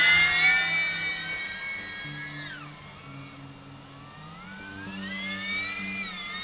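A BetaFPV Pavo 20 Pro FPV drone whines with high, tonal motor pitch that dips sharply as it slows, then climbs again, close and fairly loud, with no voices.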